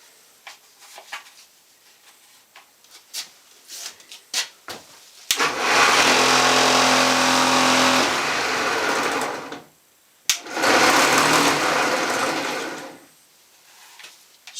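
A homemade angle grinder copy carver whirs up to a steady high-pitched run for several seconds, cuts out, then runs again briefly, preceded by close workshop clatter and handling knocks.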